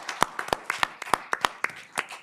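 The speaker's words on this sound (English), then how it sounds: "big round of applause" Audience applause at a community forum on disability issues: a dozen or so scattered, sharp claps in an uneven rhythm, close and fairly loud, with no voices.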